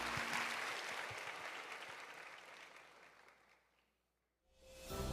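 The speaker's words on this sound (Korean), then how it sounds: "다시 한번 크게 박수해 주시기 바랍니다." A church congregation applauds during a Sunday worship service, a steady, dense wash of clapping that gradually fades out, then briefly swells again at the end.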